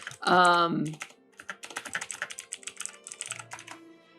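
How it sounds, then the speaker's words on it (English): Typing a question into an online library chat box on a computer keyboard, heard as a run of quick, light key clicks in an uneven rhythm after a brief tonal sound at the start. "all you have to do is click in here and you can type out a question"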